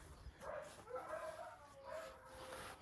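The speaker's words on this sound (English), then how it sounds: "Shut up, dogs." Dogs bark and yip repeatedly in the background outdoors in a winter garden, the calls fairly distant and fluctuating in bursts across the stretch.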